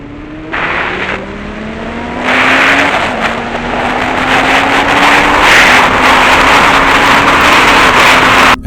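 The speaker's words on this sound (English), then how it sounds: "riding his Kawasaki motorcycle toward the Houndsgill Industrial Estate in Consett" A Kawasaki motorcycle rides along the A693 road between Beamish and Pelton, its engine note droning steadily and rising in pitch as it accelerates, with loud wind rush building over the ride and no talking.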